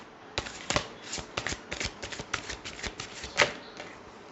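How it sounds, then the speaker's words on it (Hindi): A deck of tarot cards being shuffled by hand, a close run of soft riffling flicks and slaps in uneven rhythm, with one sharper snap near the end and no talking. "और एक बार शफल कर लेते हैं फॉर नेक्स्ट कार्ड्स"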